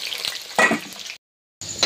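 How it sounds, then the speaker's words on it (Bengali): Potato pieces fry in hot oil before meat is cooked, a close, brief sizzle that drops out into a short silence and then resumes. "মাংস রান্না করার আগে আলুগুলো কিন্তু ভেজে নেবো তেলে।"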